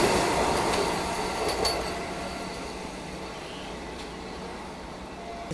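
A Vande Bharat Express train rolls past close by with a loud, steady roar and rumble of wheels on rails that eases slightly over a few seconds, with faint rhythmic clatter.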